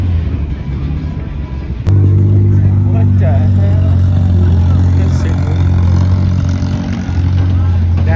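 A supercharged Honda Odyssey engine at a car meet drones loud and close, jumping abruptly in level and holding a steady growl, with brief talk over it.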